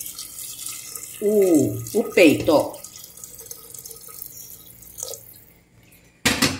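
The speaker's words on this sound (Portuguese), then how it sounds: "Vou colocar água até cobrir" Water pours from a tap into a cooking pot over shredded chicken in a home kitchen, a short gurgling fill that stops and then returns for a brief burst. Someone speaks briefly between the pours.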